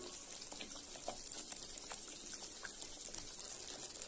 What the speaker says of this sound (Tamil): இப்ப குழம்பு நல்லா கொதிச்சுச்சு.